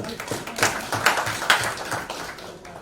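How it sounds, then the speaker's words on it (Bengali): Scattered hand claps from a small audience at a club officers' training session, a few sharp claps standing out over a soft, fairly brief patter in a room. "আবার ধন্যবাদ এবং আবার তালি"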